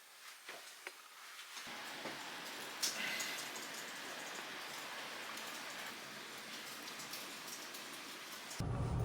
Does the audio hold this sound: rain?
yes